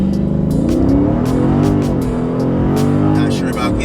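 Dodge Charger Daytona 392 on drag radials pulling a hard 0-60 run, a loud, steady engine roar holding strong throughout with sharp clicks and noises over it.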